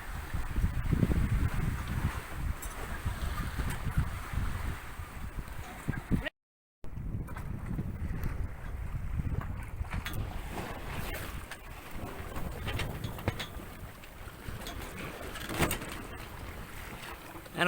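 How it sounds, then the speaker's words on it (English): A sailboat on the open sea rolls in big swells from the north, with constant wind buffeting the microphone, water sloshing against the hull and creaking throughout, and faint voices here and there. "We're still getting that occasional big swells from the north get the roll going on."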